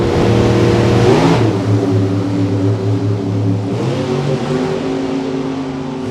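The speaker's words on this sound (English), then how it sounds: "Little 66 Chevy 2 out of Richmond. Big 632 cubic inch rat motor underneath the hood." Loud drag-strip engine roar from a 1966 Chevy II race car with a 632 cubic inch big-block, holding a heavy sustained tone with pitch shifts as the revs climb and change, close and alone without talk.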